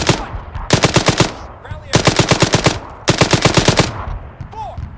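Automatic gunfire in the military shooter Arma 3 comes as three loud, close, rapid-fire bursts of about a second each, with quieter scattered shots in between.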